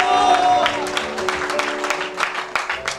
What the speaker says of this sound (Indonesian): Tepuk tangannya agak sedikit ragu-ragu. Yang meriah buat Allah kita